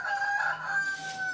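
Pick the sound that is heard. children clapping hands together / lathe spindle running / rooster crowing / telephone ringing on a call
rooster crowing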